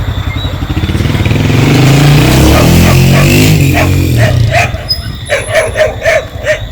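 Several short dog barks and yips in a Jamaican neighbourhood, coming in a quick series toward the end over a loud, steady engine-like rumble.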